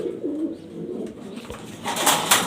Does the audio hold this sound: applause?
no